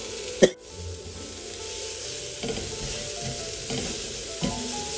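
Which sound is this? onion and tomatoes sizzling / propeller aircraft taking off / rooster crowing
onion and tomatoes sizzling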